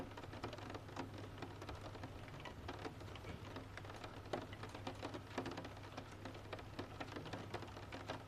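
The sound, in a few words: rain falling at night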